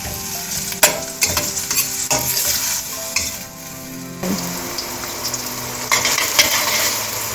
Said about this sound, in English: So I'm going to saute the onion until they turn light brown.